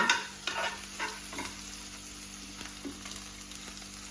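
Vegetables and onion stirred and roasted in a frying pan for a stuffed capsicum curry, with soft sizzling under a steady hum and occasional spatula scrapes against the pan, fairly faint and close, with no voices.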